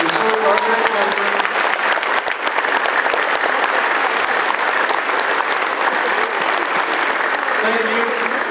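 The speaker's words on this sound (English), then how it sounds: "let's have a round of applause for all these people here who served our great country" A long, steady round of applause from a school ceremony crowd honours veterans on Veterans Day at a middle school, loud and sustained throughout, with some voices faintly beneath.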